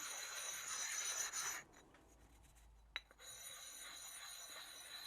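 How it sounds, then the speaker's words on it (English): Two Gordon sharpening stones, not yet surface ground, rubbing together in a continuous gritty abrasive scrape. It stops abruptly, and after a single sharp knock it resumes. Close and clear, with no voices. "Here's what they sound like rubbed together before being surface ground."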